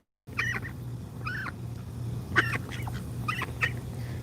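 A wet, hoarse-sounding duck calls repeatedly outdoors, giving five or six close, nasal quacks in uneven bursts over a low steady background hum.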